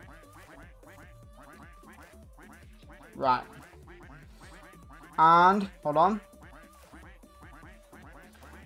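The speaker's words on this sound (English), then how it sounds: "There's a lot of quacking." Ducks in the Roblox game Duck Army quack in short loud bursts, one around a third of the way in and a clustered pair later, while a person talks steadily through the rest.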